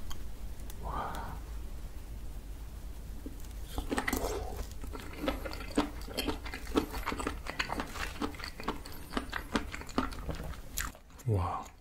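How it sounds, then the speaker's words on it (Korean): Spicy mushrooms coated in a fiery buldak mala sauce are bitten and chewed up close, giving repeated wet crunches and smacking bites in a steady rhythm, with soft mouth noises between them. "맛있게 먹어보도록 하겠습니다"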